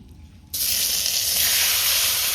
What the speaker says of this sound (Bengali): কড়াই গরম, হালকা তেল দিয়ে দিয়েছি। এখন চিকেনটাকে আমি দিয়ে দেবো।